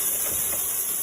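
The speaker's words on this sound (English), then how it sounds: "listen to the sizzle" A burger sizzles on the grill with a steady, bright, close hiss that holds even for about a second, no voices heard.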